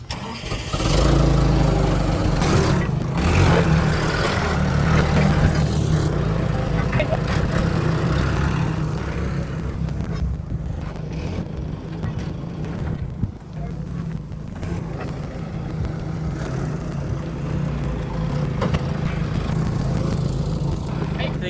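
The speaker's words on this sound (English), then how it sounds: "So without further ado, moving the dump truck inside to get a transmission." A forklift moves a dump truck into a diesel repair shop, its engine droning loud and steady at close range for a long stretch while people talk over it.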